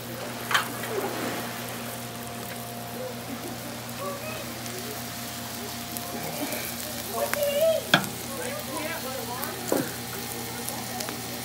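Beef frying in a pan for Asian-style beef, a steady close crackling sizzle with occasional sharper pops and scraping stirs throughout.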